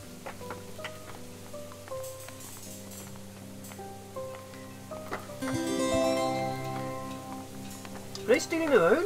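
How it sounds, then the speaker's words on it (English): Rain falls in the colony-building video game Rise to Ruins, a steady soft patter of drops under layered game tones and chimes, with a brief voice near the end. "Oh, and it's raining!"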